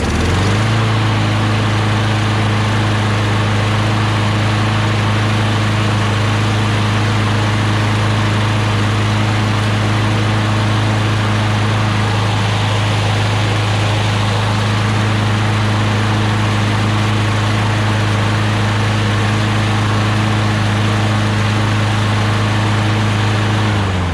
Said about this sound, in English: Engine runs really well.